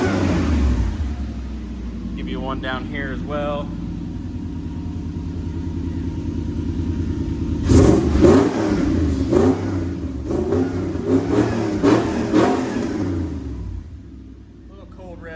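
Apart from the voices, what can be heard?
Toyota race truck engine cold revving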